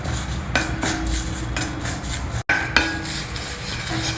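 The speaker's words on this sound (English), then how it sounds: "Roast the curry leaves till they are nice and crisp" Fresh curry leaves dry roasting in a pan, giving steady crackling and rustling with occasional scraping stirs against the metal, fairly loud and close with no talking.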